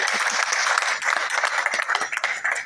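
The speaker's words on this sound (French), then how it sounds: "Je pense qu'il mérite des applaudissements pour ça." Burst of clapping from an audience at a press conference launching a new album, brisk and fairly loud, with scattered individual claps over the steady patter.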